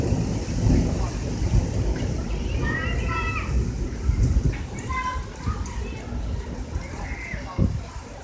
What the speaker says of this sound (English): That would be the thunder, don't mind that.